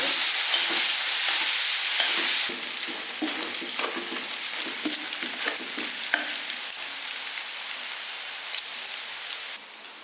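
Meat stir-frying in olive oil and dark soy sauce in a wok gives a loud hiss that drops to a softer, crackling sizzle with scattered pops and stirring scrapes, close and continuous.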